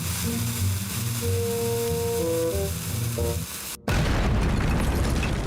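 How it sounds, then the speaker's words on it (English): A cartoon underground explosion set off by dwarves erupts as a sudden loud burst of roaring rumble after a stretch of quieter musical tones. The blast cuts in abruptly and sustains to the end. "They carry out big explosions underground."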